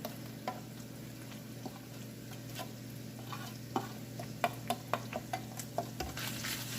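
A spoon stirs spices into browned beef samosa filling in a pan over low heat, with a steady soft sizzle under a series of scraping, clinking strokes that grow more frequent toward the end.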